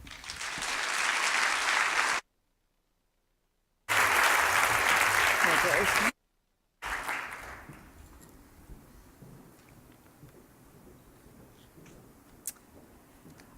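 Audience applause welcoming a conference speaker, broad and steady in two loud bursts broken by brief gaps, then tapering into scattered claps and low room noise.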